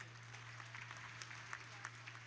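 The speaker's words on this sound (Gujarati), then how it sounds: "એક વખત જોરદાર તાળીઓથી એમને વધાવી લઈએ" Steady applause from a crowd at a temple consecration festival, a dense patter of many hands clapping at a fairly even level, with a low electrical hum underneath.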